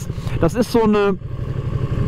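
A Ducati Panigale V2 motorcycle engine gives a dull, steady low throb close by, running continuously under a man's brief speech.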